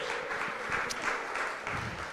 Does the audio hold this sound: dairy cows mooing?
no